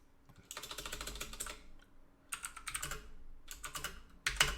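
Computer keyboard typing in three bursts of rapid clicking keystrokes with short pauses between, close and fairly quiet, no talking.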